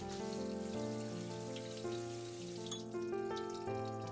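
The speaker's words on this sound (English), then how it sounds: "I pour the water over the red bean to remove the astringency." Water splashes steadily over cooked red beans in a sieve, a soft rain-like patter that is faint beneath sustained background music.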